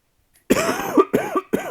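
Three harsh, wet coughs in quick succession from someone sick with a cold and chest pains, loud and close, with a brief pause between each burst and no talking.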